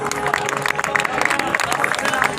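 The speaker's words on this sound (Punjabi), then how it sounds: "ਇੱਕ ਵਾਰੀ ਆਪਣੇ ਨਾਮ ਤੇ ਫੇਰ ਜ਼ੋਰਦਾਰ ਤਾੜੀਆਂ ਮਾਰ ਕੇ ਦੱਸੋ" A festival crowd at a state-level Basant fair at a college in Ferozepur claps and cheers steadily, with dense, continuous applause mixed with crowd babble throughout.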